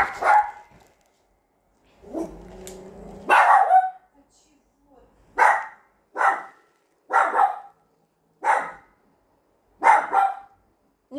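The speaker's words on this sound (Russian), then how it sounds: "Не гавкай." A dog barks in a series of sharp, evenly spaced barks, about six in a row, loud and close, with a person speaking briefly in between.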